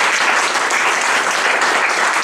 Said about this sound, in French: Si vous êtes avec moi, on va acclamer le Seigneur.